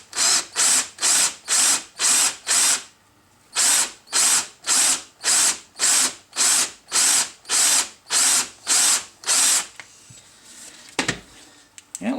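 A power drill bores into a Volvo brake caliper in a long run of evenly spaced loud whirring pulses, a brief pause partway through, then quieter handling noises and a sharp knock near the end.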